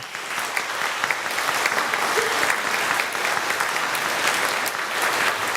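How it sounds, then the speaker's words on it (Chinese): A congregation at a Taiwanese-language Sunday worship service at a Presbyterian church applauds, a steady, even roar of many hands clapping that continues throughout. "好，请恁向后转哈，大家会当来鼓掌。"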